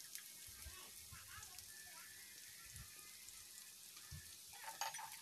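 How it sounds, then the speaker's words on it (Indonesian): Carrot frying with garlic in a pan, a faint continuous crackling sizzle with occasional soft stirring knocks, quiet and close. "Lalu kita goreng bersama dengan bawang putihnya"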